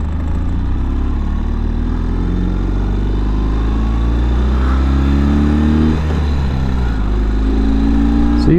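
A Ural sidecar motorcycle on the move, its engine a steady, loud, close rumble that rises slightly in pitch toward the end, with wind noise throughout.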